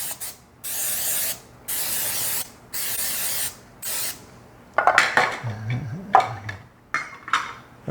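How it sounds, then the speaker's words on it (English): Cooking spray hisses over a muffin tin in four or five separate bursts, each about a second long, then the metal tin clanks and scrapes as it is handled. "So I'm going to spray each one of them really good."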